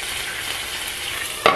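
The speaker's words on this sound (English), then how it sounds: "I'm actually gonna put a top on this just for like a minute, just so that the broccolini can steam." Broccolini sizzles and hisses steadily in a frying pan, a dense close frying noise, ending in a sharp clack as something strikes the pan.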